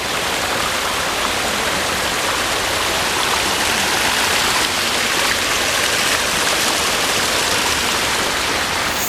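Hivrem Waterfalls in Goa roars during the monsoon, a loud, steady broadband rush of falling water that fills the whole stretch without pause or voices.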